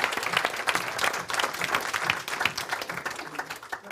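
Sustained audience applause at a hypnotherapy business seminar, dense clapping from a sizeable crowd filling the room at steady loudness throughout, with a few brief voices mixed in.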